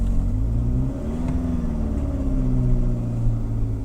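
A 2012 GMC Terrain engine runs steadily at close range, its low rumble swelling slightly as it revs, with no talking over it.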